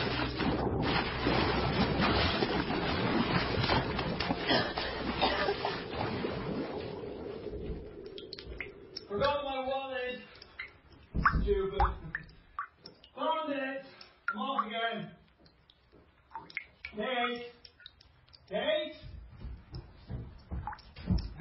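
Water and waves in a radio drama: a loud rushing, splashing wash fills the opening seconds, then fades as anguished voices take over with faint water still beneath.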